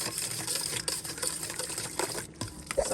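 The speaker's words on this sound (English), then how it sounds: "So I'm adding a little bit, and I'm going to mix that in." Dry ingredients are mixed into Jamaican Easter bun batter, giving a steady, rapid, rattling whir close by with a few brief dips in level.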